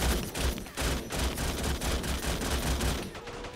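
An anti-aircraft cannon in the Call to Arms war game fires continuously, a rapid rhythmic string of heavy booming shots, close and loud, with no talking.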